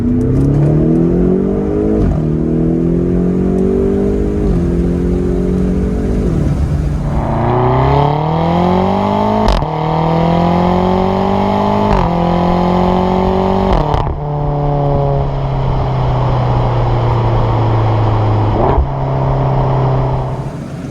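A loud, close engine roars as a 580 bhp BMW X6 M (F86) accelerates hard with its exhaust valve open, the pitch climbing and dropping with each gear change in a continuous throaty exhaust note.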